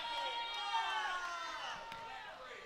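Crowd in a high school gym at a holiday basketball tournament, reacting to a foul call with a faint, diffuse swell of voices and shouts that slowly fades.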